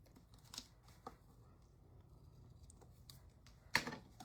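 Scissors trim a length of ribbon on a country-style paper craft project, making a few quiet, crisp snips spaced apart, the last one sharper, in an otherwise hushed room.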